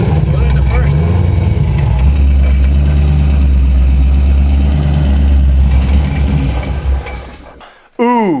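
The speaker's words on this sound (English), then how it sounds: "It's so weird hearing the engine right here through that hole." A Corvette engine idles, heard up close through a hole in the car, giving a steady low rumble that fades near the end, while voices talk over it.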